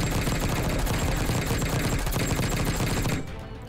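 A sentry gun fires a sustained, loud automatic burst in Call of Duty Warzone (Black Ops 6), rapid continuous shots that cut off abruptly near the end.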